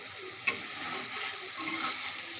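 Bele fish sautéing in a pan, a steady broadband sizzle with a sharp pop or crackle near the start and light stirring scrapes, close and fairly quiet.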